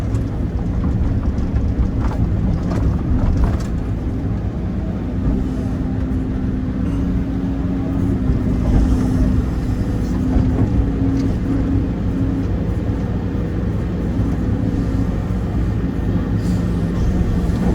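An excavator rumbles with a steady low engine drone and faint clanking as it moves along a 600-metre trench being dug in Pakham district, loud and continuous with no voices.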